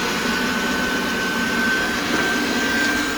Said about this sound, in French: Ok Google, lance l'aspirateur.